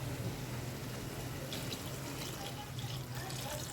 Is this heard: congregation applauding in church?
no